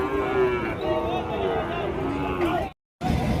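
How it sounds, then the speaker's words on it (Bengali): Cattle, including cows and heifers being unloaded from a vehicle at the Choubaria livestock market, moo in long, loud calls amid crowd babble and someone talking. "সুন্দর সুন্দর গরুগুলো কিন্তু আনলোড হচ্ছে"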